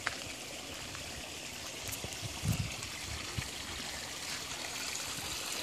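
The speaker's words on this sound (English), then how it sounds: "there's water flowing from that overflow all night long, all day long" Water pours from an overflow in a steady, faint trickling stream with a brief splashier burst partway through.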